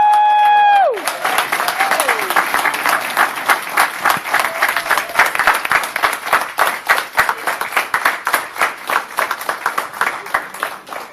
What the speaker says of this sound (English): I'd like to clap for you